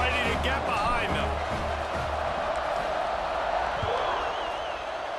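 A stadium crowd in the American football video game EA Sports College Football 26 roars in a dense, continuous wash. Commentary talk runs over it throughout.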